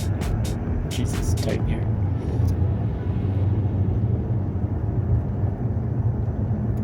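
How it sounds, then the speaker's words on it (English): Steady low road rumble fills the cabin of a 2022 RAM 1500 pickup cruising the highway, with light intermittent rattles early on and someone talking over the noise. "we're going to listen to the inside of the vehicle of how it rattles along the highway"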